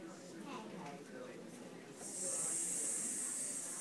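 A child's or adult's voice mimicking a snake with a steady sustained hissing "sss" after some soft talk, close and moderately loud.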